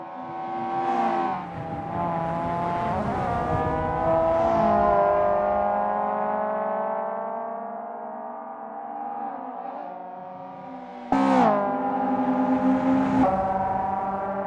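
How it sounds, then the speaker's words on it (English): Mazda Eunos Roadster touring car engines in Assetto Corsa roar continuously as several cars rev and shift, rising and falling in pitch, loud and close, with a sharp new surge near the end. "The roaring engines are echoing Lars's battle cry."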